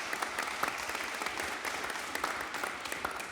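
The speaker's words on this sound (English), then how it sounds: "Can we give our nonprofit leaders a round of applause?" Steady round of applause from a roundtable audience honoring nonprofit human services leaders in the Mon Valley, dense and continuous with a few sharper nearby claps standing out.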